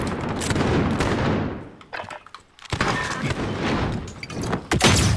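Gunfire in the shooter Modern Warfare: sharp close shots and bursts in two loud clusters broken by a short quiet gap, with a final crack near the end.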